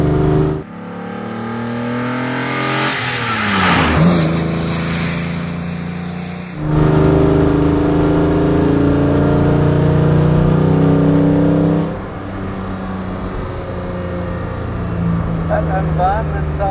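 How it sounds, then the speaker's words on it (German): 1955 Mercedes 300 SL Gullwing, a restored 215 hp classic, revving and accelerating hard with a loud, rising engine note through gear changes, heard close and steady for most of the stretch. "Sound ist irre bei dem Auto."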